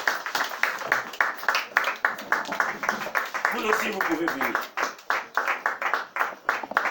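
Scattered applause and clapping from guests at a family meal, light rhythmic claps running beneath someone speaking French over the crowd.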